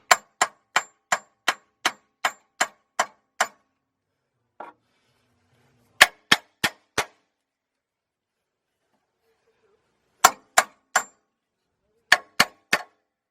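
A hammer strikes metal parts from a solid axle swap kit on a Chevrolet 2500HD truck, giving sharp ringing clangs: a run of about nine quick even taps, then several short bursts of three or four separated by quiet gaps.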